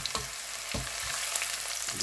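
Deer meat added to a hot pan with garlic, giving a bright, dense sizzle with a few soft stirring thumps throughout.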